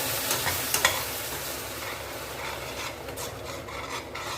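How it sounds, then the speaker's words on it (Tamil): A spoon scrapes and stirs ragi kichadi in a pot with steady rubbing strokes over a soft sizzle, cooking on a low simmer. "சிம்மில் வச்சு கிளறி கொண்டுட்டே இருங்க"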